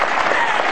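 Applause for Ibu Susan at an Indonesian motivational show, a dense, steady patter of many hands clapping at once, loud and close, continuous across the brief moment with no pause.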